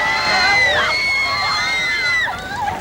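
Excited crowd gathered outside the register office for Ringo Starr's wedding, cheering and screaming with high shrieks and whoops in a dense, continuous roar that swells and dips as a star arrives.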